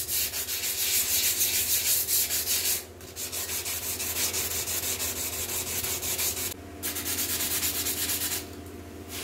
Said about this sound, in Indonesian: Kalau terlalu dalam nanti di amplas, nah takutnya nanti serat karbonnya kemakan di amplas ya.